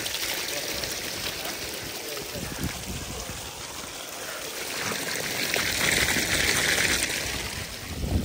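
Borewell water pours and splashes steadily into a holding pool, a continuous rushing flow that swells louder midway, with voices talking over it.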